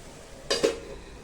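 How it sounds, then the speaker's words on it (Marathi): A lid set onto a pan of cauliflower vegetable stir-fry on the stove, giving two quick close metallic clinks in a row, with a faint sizzle underneath and no talk. "आता याच्यावर आपण झाकण ठेवूया"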